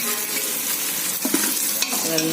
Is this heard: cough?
no